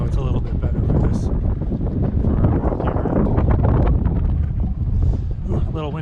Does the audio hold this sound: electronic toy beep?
no